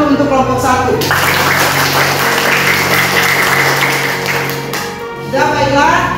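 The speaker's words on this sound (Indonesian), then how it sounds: "Jadi tepuk tangan untuk kelompok 1." A classroom of students claps for a group after its presentation, a dense burst of applause lasting several seconds, with voices before and after.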